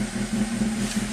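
A 1987 Toyota MR2 engine runs with a steady low hum that strains slightly as it slowly builds revs, heard up close and continuous throughout.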